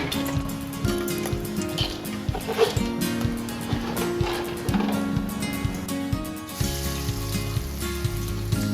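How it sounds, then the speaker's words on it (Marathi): Whole spices fry in hot oil for a home-style Marathi mutton and liver dish, giving a steady, moderate sizzle and crackle throughout with a tonal background running underneath. "आणि आता तेल मध्ये फ्राय करणार आहोत अख्ख मसाले"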